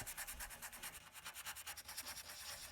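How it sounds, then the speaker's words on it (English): Fast, even back-and-forth strokes of 220-grit sandpaper rasping on a used metal car body panel, close and fairly quiet, with no voices. "So I'm sanding them down with some 220 grit."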